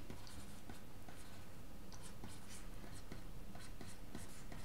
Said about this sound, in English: Okay, maybe I write this.